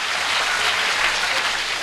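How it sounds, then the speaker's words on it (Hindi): A crowd claps steadily, a dense continuous wash of applause that fills the whole moment without any voices standing out. "तालियां गलत जगह बजेगी"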